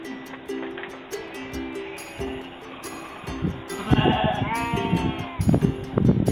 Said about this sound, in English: This is a Shetland sheep